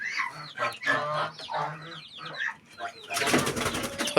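Domestic chickens kept indoors in a coop in the evening cluck and murmur close by in short, irregular bursts, with a louder flurry of noise near the end.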